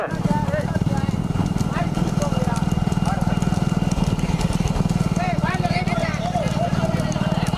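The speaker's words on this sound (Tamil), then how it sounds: "அண்ணே இரண்டாவது 3வது மாடு வந்துருச்சு." Bulls pulling carts in a small-bullock cart race at Veeraraghavapuram, their hooves drumming in a fast, steady clatter alongside motorbike engines following close behind, with people shouting and commentary over the racket.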